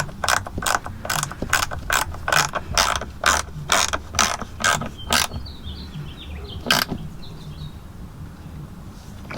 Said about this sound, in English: the 1/4" ratchet fits in the end there, which makes it really nice to tighten that up